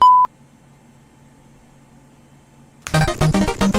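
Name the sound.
answering machine beep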